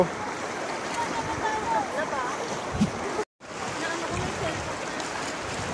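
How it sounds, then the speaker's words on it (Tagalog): Rushing river water and waves churning steadily during a night river crossing on a hike at Mount Mariglem, continuous broadband wash with a brief dropout midway. "Tatanggap po yung malakas na alon."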